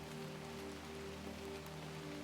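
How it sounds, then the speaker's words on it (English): Steady rain falls on a London street in 1880, pattering continuously and softly at a constant low level with no voices present. "the rain has been coming down since morning"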